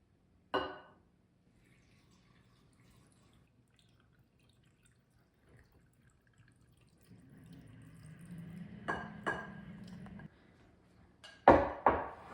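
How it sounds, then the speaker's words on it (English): Pickling brine for deer heart is poured into mason jars, heard as a quiet, soft liquid trickle lasting a few seconds, with faint glassy clinks and taps before and after in a hushed kitchen. "you can stir the brine, and then we're going to pour it in"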